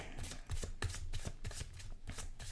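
A Tarot of Curious Creatures deck is shuffled by hand, giving a quick run of soft, papery riffles and slaps. The sound is close but quiet, with no talking.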